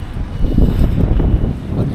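Cold winter wind in Taiwan gusts steadily against the microphone outdoors, a loud, continuous low rumbling buffet that lasts throughout with no voices.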